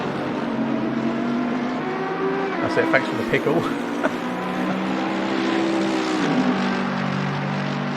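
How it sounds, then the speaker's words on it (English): Race car engines in the Assetto Corsa Competizione racing game, a continuous high whine with several cars passing and shifting, playing under commentators talking. "Are the cars still a bit loud, are they?"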